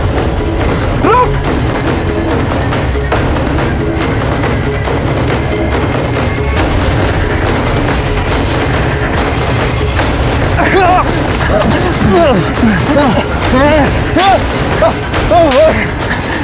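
Gunfire in a Hindi TV crime drama scene, heard as dull booming thumps and cracks within a loud, dense, continuous mix of action sounds and music, with shouting voices.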